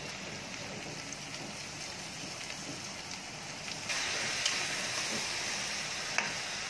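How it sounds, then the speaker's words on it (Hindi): Onions frying in an open, uncovered pan while making mutton paya curry give a steady, soft sizzle throughout, growing a little brighter and louder partway through, with no talk. "अभी 5-10 मिनट ऐसा फ्राई करने का प्याज पे"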